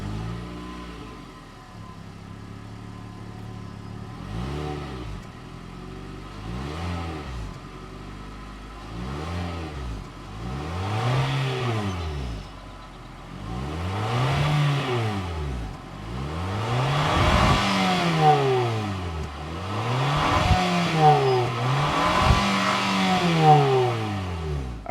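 A 2025 Mitsubishi Outlander SEL Premium with a 2.5-liter naturally aspirated four-cylinder fires up, then revs repeatedly in rising, falling sweeps that grow louder toward the end, heard up close with no talking.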